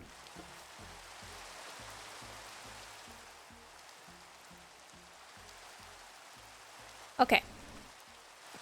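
Steady rain in a Minecraft-style survival game, falling at night over a swamp village, a soft continuous hiss beneath quiet talk, with a brief sharp burst near the end.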